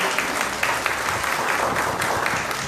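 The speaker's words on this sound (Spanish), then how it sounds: "Un aplauso." Audience applause at the Miss Huaral Provincial 2019 pageant, a steady wash of many hands clapping that stays dense and even throughout, with no voices standing out.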